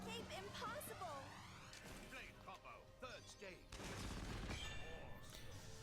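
Steam Explosion, an attack effect in Xenoblade Chronicles 2, erupts in a burst of crashing, blasting impacts over busy battle sounds, swooping tones and game music, with a heavy rumbling surge near the end.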